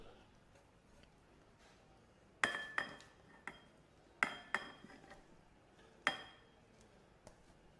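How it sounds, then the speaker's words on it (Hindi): Metal utensils clink and knock against a large cooking vessel while cooled cooked food is transferred into it, a few sharp bright strikes in small clusters over a quiet kitchen background. "अब एक बड़े साइज़ का बर्तन ले लेंगे और उसके अंदर इसको ट्रांसफ़र करेंगे।"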